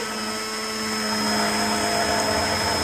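A steady, loud electric whirring hum runs without pause, a hand blender spinning close by as it whisks mayonnaise.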